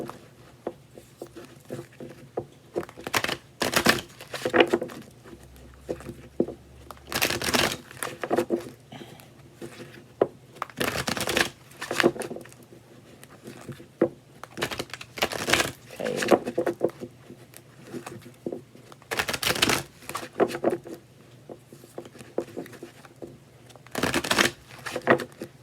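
A tarot deck of Thoth cards being shuffled, with repeated bursts of riffling card flutter and soft patter coming in bursts through the whole stretch, close and fairly quiet, with no talk.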